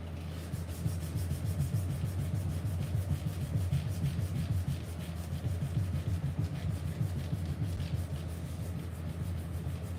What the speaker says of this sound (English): let me sand a little bit.